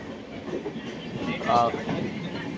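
Faint, steady rumble of a train moving on rails from Badami toward Hampi, with a brief metallic squeal midway.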